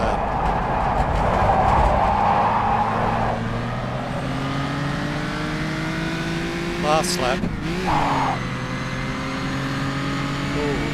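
1953-era race cars lapping Crystal Palace in a racing video game: engines drone and rise in pitch through gearshifts, one car whooshing closely past midway, while someone speaks over the motor noise.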